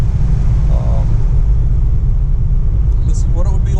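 A 1937 Packard 120 drives along with a loud, steady low engine and road rumble heard from inside the car, with a few faint squeaks and chirps toward the end.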